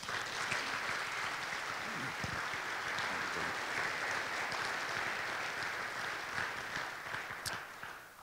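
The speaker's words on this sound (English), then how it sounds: "So if you could go ahead and give Rick Box a nice round of applause." A dense, sustained round of applause from a crowd, steady and full for several seconds before tapering off slightly.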